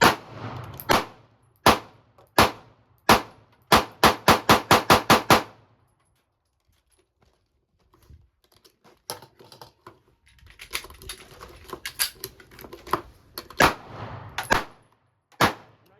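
Springfield Armory Hellcat pistol fired at a cardboard target outdoors, sharp near shots first spaced apart, then a rapid string, a pause, and a looser burst of quieter cracks before two final loud reports.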